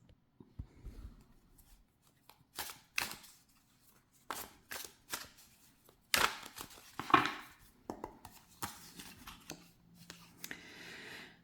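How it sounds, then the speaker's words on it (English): Tarot cards being shuffled by hand in a quiet room, a run of soft riffling bursts and crisp flicks and taps that come in separate close-up bunches, with no talking. "Let me shuffle the cards and we'll lay 3 more cards."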